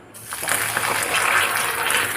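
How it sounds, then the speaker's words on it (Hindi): Water poured into hot caramelizing sugar in a pan sets off a loud, continuous hissing sizzle and bubbling that starts abruptly and holds steady, close by, with no talking. "तो बस इनमें हम सावधानी से थोड़ा पानी डालेंगे"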